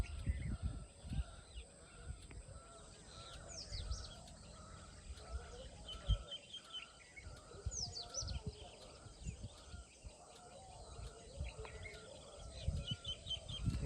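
Small birds and egrets calling outdoors, scattered high chirps and short tweets at a distance over a low rumble of handling and movement noise.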